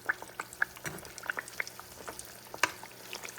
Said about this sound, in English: This is a high heat. I'm going to start moving them around.